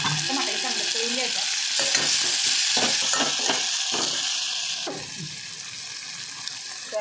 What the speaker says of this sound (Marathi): टमाटर घालून घेतले. टमाटर चांगलं तळून घ्यायचा.